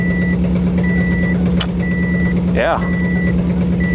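A Subaru Impreza engine idles just after being brought back to life, holding a steady low hum close by while a short electronic chime repeats at intervals and a voice speaks briefly.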